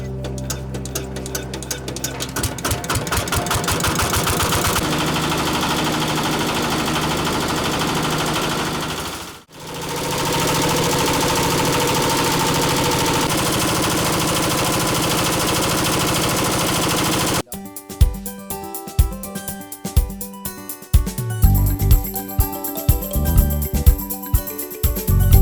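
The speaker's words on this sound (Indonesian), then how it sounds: "diperlukan proses penggilingan menggunakan mesin giling untuk mendapatkan tekstur kompos yang baik dan remah" A grinding machine mills mature compost with a loud, continuous mechanical roar and rapid rattling. It cuts out briefly, restarts, then turns to harsher, irregular chattering bursts near the end, with no voices.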